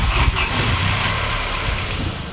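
A VW Golf MK4 engine idling close by, a steady rough low rumble with an occasional misfire stumble, no talk.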